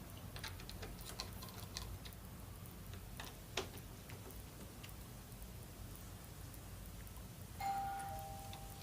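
A Ring smart doorbell, being installed at home, gives a single short chime near the end after a stretch of quiet clicks and light taps from the work.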